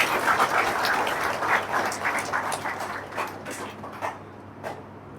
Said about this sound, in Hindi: और जितने नए लोग हैं एक बार अपने लिए जोरदार ताली बजाइए।